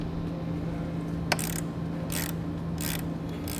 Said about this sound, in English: we can come back and make sure it's nice and secure with your ratchet or wrench